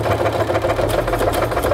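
A Brother NQ 1300 sewing machine stitching a floral quilt pattern, heard as a close, steady rapid mechanical whirr and tapping of needle strokes, continuous with no talk.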